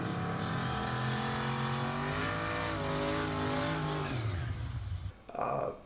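A 4.8 Oldsmobile Cutlass with a Turbo 400 transmission and single turbo pulls hard at full throttle, its engine note climbing through gears in stacked rising harmonics, then cutting off abruptly into a brief burst of hiss near the end.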